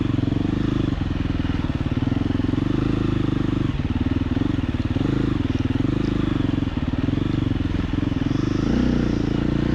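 Dual sport motorcycles, two-stroke bikes among them, ride past at a Wisconsin charity ride, their engines making a loud, continuous drone with shifting revs and no talk over it.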